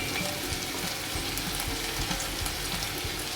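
Green chillies fry in a pan with a continuous close sizzle and crackle, some light stirring knocks mixed in, no one speaking.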